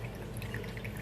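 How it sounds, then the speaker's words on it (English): Tuna water trickling and dripping from a drained can into a cup, a soft, steady pouring sound held close up for about a second. "I always drain the tuna water into a cup for them"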